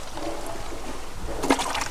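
Water poured slowly onto salty farmland soil, a faint trickling that swells into a brief louder splash near the end.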